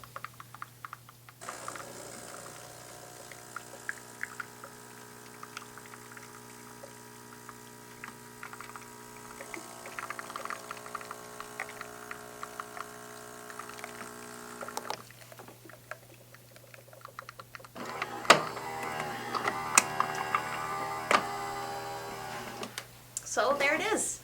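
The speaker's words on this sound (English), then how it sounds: "So here comes our espresso. Our brand new fresh espresso." A Gaggia Titanium espresso machine brews espresso, a steady electrical hum and pump drone with faint trickling, ending in louder gurgling and sputtering bursts toward the close; quiet overall.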